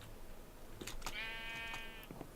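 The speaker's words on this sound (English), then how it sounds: "So now I will snip my sheep again." A sheep in a video game gives a single drawn-out, wavering bleat while being sheared, heard alone and fairly close, with a few faint clicks around it.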